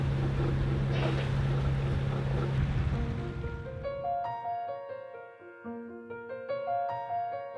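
A sailboat motors through a scenic coastal channel on its Volvo Penta engine, a steady low drone mixed with water rush and wind, while bright sustained musical tones come in and build over it.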